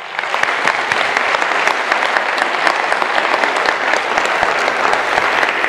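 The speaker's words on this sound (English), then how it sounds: "if you would give them a round of applause" A large university audience applauds a leadership team in a steady, loud, dense wash of clapping that holds for several seconds with no speech.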